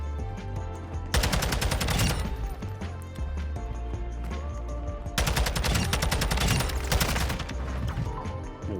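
Two bursts of rapid automatic gunfire from a TAQ-56 assault rifle in Call of Duty: Modern Warfare 2, loud and close, with quieter game sounds between them.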